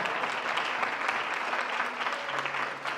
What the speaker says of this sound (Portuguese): Não, merece uma salva de palmas, Santa Teresa, não é verdade?